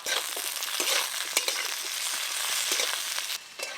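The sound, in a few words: onion, capsicum and tomato stir-frying for chilli chicken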